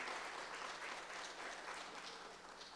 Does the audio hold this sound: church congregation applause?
yes